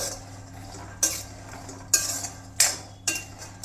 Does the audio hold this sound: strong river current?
no